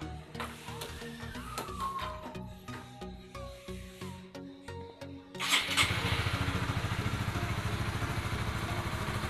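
Honda CB150R motorcycle starting, with several seconds of quiet clicking and whirring before the engine catches and settles into a loud, even, close idle.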